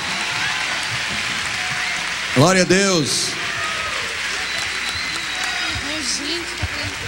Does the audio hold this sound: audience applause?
yes